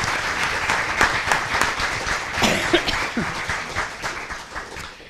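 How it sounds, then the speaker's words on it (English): Applause from an audience at a mayoral candidate forum in Lexington, a steady crowd clapping that fills the room and slowly fades, with a cough or two mixed in. "You can give them all a round of applause."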